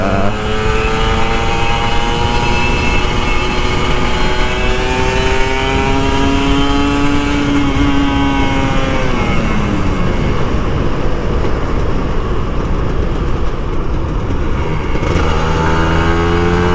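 A Kawasaki Ninja RR two-stroke motorcycle roars steadily while being ridden on Jakarta streets in the early morning, its engine note climbing and falling through gear changes, loud and continuous with wind rush and no talking.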